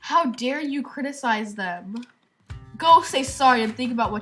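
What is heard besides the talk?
No everyday noises stand out.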